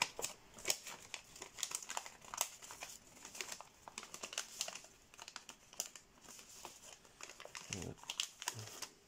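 Paper is folded and pushed inward while forming an origami angelfish, producing continuous faint, close crinkling and creasing rustles with small sharp crackles throughout.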